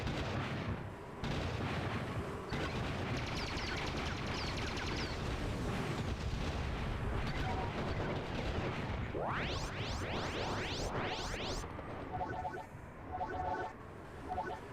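Cannons boom in the real-time strategy game Swarm Assault, a dense, continuous barrage of heavy blasts and impacts, with several quick rising whooshes partway through.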